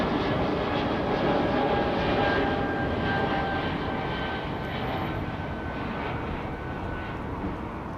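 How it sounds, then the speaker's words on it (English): An Emirates Airbus A380 being pushed back at Heathrow gives off a steady, distant engine whine and broad rumble that fades slightly toward the end, with no voices. "There's another Emirates 380 on the push, is it?"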